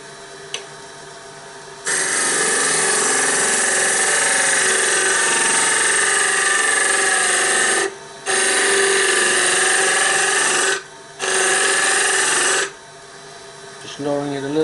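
Wood lathe spinning a wooden box blank, a steady loud whirring drone that cuts out briefly twice as the speed is dropped, then resumes; no speech over it.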